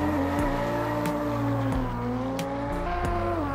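Maserati MC20 twin-turbo engine in the racing game Assetto Corsa, a loud, close, continuous engine drone with several upshifts that drop the pitch and then rise again as it accelerates, with faint turbo whooshes.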